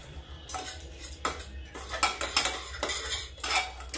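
Metal utensil scraping and clinking against a pan while yogurt masala gravy is stirred over low heat, a run of sharp repeated strokes over a steady low hum, close and fairly loud.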